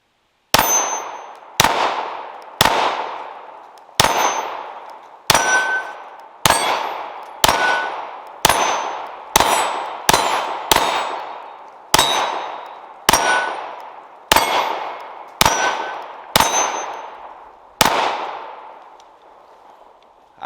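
Rifle rounds striking steel targets outdoors, about seventeen sharp shots each followed by a bright metallic ring that decays over a second, spaced at a fairly even pace with brief pauses, no talking.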